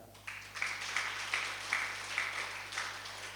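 An audience at a religious discourse claps in a series of rhythmic group bursts, moderately distant and fairly soft over a steady background hum.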